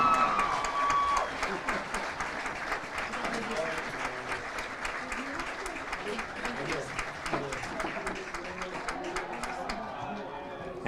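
A high school football crowd applauds for the homecoming queen and her attendants, a steady wash of clapping from a large audience at a distance, with an announcer speaking over it throughout.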